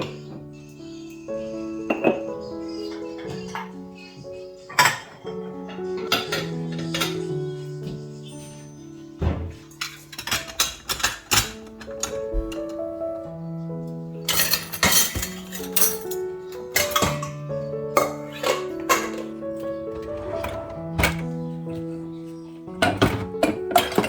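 Dishes and utensils clink and clatter as a dishwasher is unloaded in a home kitchen, a steady run of close, bright knocks and rings over a hum in the background, with no talking.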